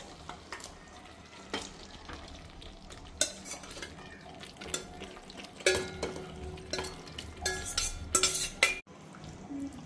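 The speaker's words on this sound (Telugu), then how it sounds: "ఇందాక మ్యారినేట్ చేసిన చికెన్ పక్కన పెట్టుకున్నాను. ఇప్పుడు ఇది ఇందులో యాడ్ చేసుకోవాలి" Marinated chicken goes into a pan for a chicken curry and is stirred, with a spoon scraping and clattering against the metal in uneven strokes over a soft sizzle, close up and with no talking.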